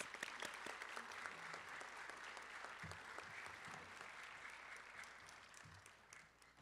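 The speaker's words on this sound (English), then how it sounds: "Let's give these students a round of applause." A seated audience at a high school senior awards night claps steadily, a continuous patter of many hands heard from a distance, fairly faint and unbroken throughout.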